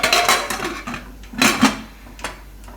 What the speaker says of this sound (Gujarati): હવે કુકરનું ઢાંકણું બંધ કરી દઉં.